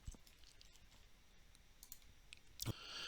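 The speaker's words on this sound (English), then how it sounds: "I could just click it and I can click Getting Started" A few quiet, sparse clicks from a computer mouse while selecting items in software, with one sharper click near the end, the room otherwise quiet.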